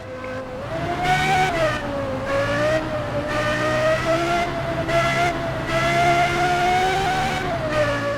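Lexus LFA engine in the Roblox game Midnight Racing Tokyo, a loud, steady high-pitched rev that holds and wavers for several seconds, rising and falling slightly with gear changes.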